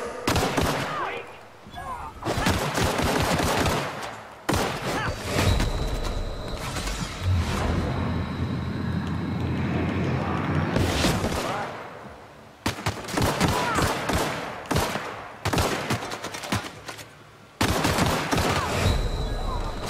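Bursts of automatic gunfire in The Outer Worlds video game, loud, close and repeated, with dense volleys broken by short pauses; a voice talks briefly over the shooting.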